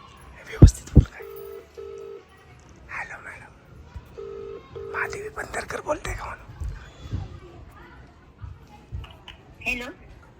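A phone is dialed during a prank call, with pairs of steady keypad tones sounding twice amid close conversation and laughter from people nearby.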